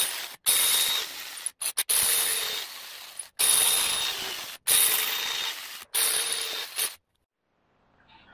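A ratchet tightening cylinder head bolts on a Subaru Impreza 2.5L engine, with five bursts of loud, close clicking separated by short pauses, ending in silence.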